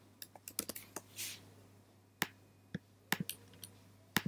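Someone types on a computer keyboard in irregular bursts of close, crisp key clicks separated by short pauses, in a quiet room.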